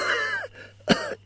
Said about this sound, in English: In some cases, violent coughing.